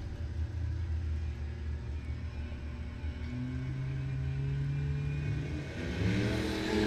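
Drag strip launch with a turbo Pinto among the cars: a steady, loud engine rumble fills the whole stretch, with rising revving tones joining in partway through and building toward the end.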